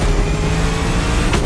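A luxury hypercar with four-figure horsepower revving hard in the racing game The Crew Motorfest, a loud, close, sustained engine roar that holds steady and then swells briefly near the end.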